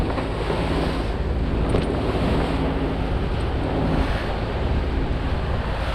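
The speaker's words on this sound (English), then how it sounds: "Quite big waves." Big sea waves wash and crash around a boat under heavy wind buffeting, a loud continuous roar with surges of spray, no voices.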